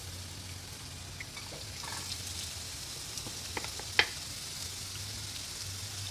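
Ginger and carrot stir-frying in a new frying pan, a soft continuous sizzle with light scraping and stirring clatter, including one sharp metallic clink near the end, and no talking.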